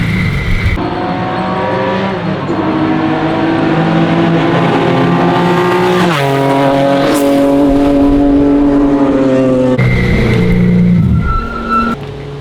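Race car lapping a track on its first outing: a loud, continuous engine note rising and falling through gear changes, revving hard down straights and easing into corners, with no voices.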